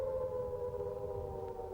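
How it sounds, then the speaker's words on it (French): Air raid sirens wail over Warsaw under attack, a steady sustained tone held without pause, loud and continuous across the whole stretch. "Les sirènes hurlent sans fin sur Varsovie."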